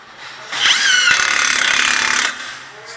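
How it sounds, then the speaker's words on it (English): A power tool whirs for about two seconds while tightening the lower control arm bolt on a Dodge Charger, a close, steady buzz that starts and stops abruptly in a quiet garage. "I'm going to tighten that lower bolt."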